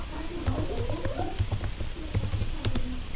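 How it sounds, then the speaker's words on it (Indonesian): Quick, irregular clicks of typing on a computer keyboard while entering Debian 8 SSH server install commands in VirtualBox, close and clear, with no talk over it. "kita mulai ketik langkah penginstalan SSH server dengan ketik apt spasi get install"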